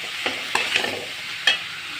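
Bottle gourd and tomato pieces being stirred in a frying pan, a few soft scraping strokes over a faint, steady sizzle, close and fairly quiet.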